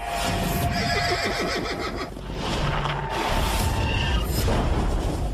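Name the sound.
horse neighing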